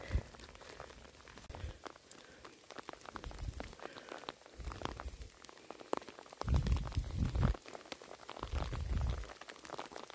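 Rain patters continuously over a forest during a thunderstorm, with scattered nearby drips and a few heavier low thumps and rumbles rising partway through; no speech.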